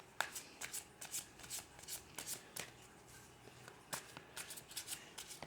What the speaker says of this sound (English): I'll just give them a quick shuffle for you.